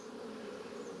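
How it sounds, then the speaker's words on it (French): Honeybees buzz in a steady, dense hum at a hive entrance in an apiary, many insects droning together at close range with no talk. "En ce moment, les abeilles sont en éclosion."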